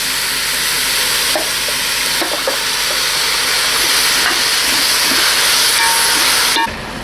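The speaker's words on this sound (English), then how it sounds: "now the beef goes back into the Dutch oven like this." Beef dropped back into a hot Dutch oven sizzles loudly and steadily up close, a dense frying hiss with a few stirring knocks that cuts off abruptly near the end.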